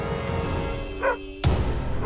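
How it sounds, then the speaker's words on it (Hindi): Dogs barking at a compound gate, two sharp barks a fraction of a second apart, close and moderately loud over a steady low background hum. "इन कुत्तों को किस सूटकेस को देखकर भौंकना चाहिए, किस पर नहीं, पहले ये सिखाओ।"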